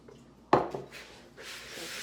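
Oats coated in honey and oil being stirred for homemade granola, with a sharp scrape against the bowl followed by softer, close rubbing and shuffling.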